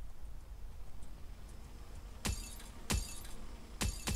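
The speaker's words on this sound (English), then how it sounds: "I am smashing this tank through all of these trees here" Armored tank in the game Factorio crashing through a stand of trees: four sharp, bright cracking impacts, each like splintering wood or shattering, spaced about a second apart over a low, steady rumble.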